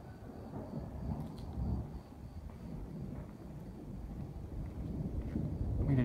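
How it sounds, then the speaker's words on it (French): Low rumbling thunder from a distant nighttime storm over Chamalières near Clermont-Ferrand, a steady deep roll with rain and wind noise that swells slightly toward the end, no talking. "Ben voilà un orage nocturne"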